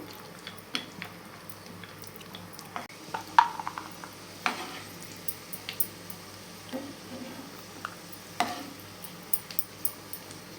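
Cashews, almonds and raisins frying in ghee, a soft sizzle under scattered stirring scrapes and light clinks of a spoon against the pan.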